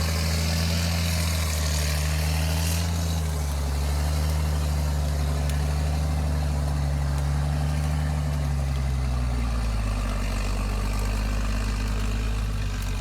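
A heavily loaded car climbs a muddy forest road, its engine droning loud and steady with a deep growl that slowly shifts pitch as the wheels churn, unbroken and close throughout.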